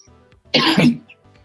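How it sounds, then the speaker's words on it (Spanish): One short, sharp cough, close and loud, with soft background tones before and after. "Oye, voy a toser"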